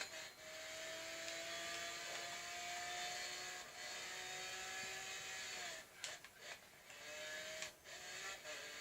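A Lamborghini Centenario in Forza Horizon 3 produces a high, steady engine whine with rising tonal harmonics, held at moderate loudness, with a few brief shifts or dips near the end.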